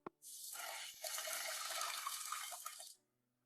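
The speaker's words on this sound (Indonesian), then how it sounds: "Hari ini aku yang menuang susu untukmu." Milk being poured at a breakfast table at home: a steady liquid stream running for close to three seconds, fairly soft, then stopping, with no talk over it.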